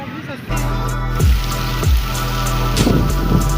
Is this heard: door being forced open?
no